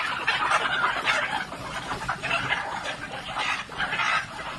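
Backyard domestic hens, a small flock that started as four egg-laying birds, cluck and chatter in steady overlapping bursts nearby with no talking.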